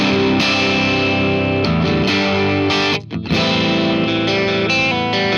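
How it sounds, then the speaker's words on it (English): Electric guitar through an overdrive pedal with no added effects, sustained distorted chords ringing loud and steady, with a brief gap as the chord changes midway. "here is just the dry signal with the overdrive"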